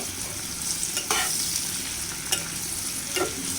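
Onions sauté in a pan for chickpea bhuna, a continuous close sizzle with a few soft scraping stirs.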